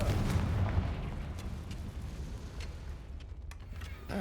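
Confringo fire spell explosion in Hogwarts Legacy, a loud, rumbling blast that fades gradually with a few crackling pops trailing off.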